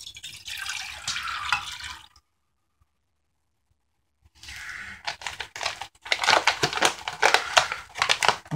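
Sixteen ounces of preheated water pours out for beef stroganoff, a steady splashing stream for about two seconds, then silence, then more splashing and clattering of noodle chunks in bursts, close and fairly loud.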